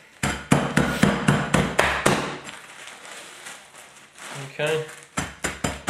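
A pan pounds store-bought cookies sealed in a bag into crumbs, giving a series of sharp, loud thuds in quick bursts, then a pause and more strikes, with a voice speaking briefly.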